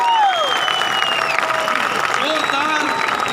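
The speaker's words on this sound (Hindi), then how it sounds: "जोरदार तालियां होनी चाहिए सर के लिए, सर के सम्मान में बेहतरीन तालियां होनी चाहिए।" Applause and crowd noise from a large audience at a big motivational event in Mumbai (Panvel), a steady dense wash of clapping throughout with voices mixed in.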